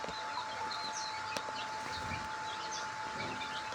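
Chickens cluck softly on a farmyard, with scattered low calls and chirps at a moderate distance over a steady background hum.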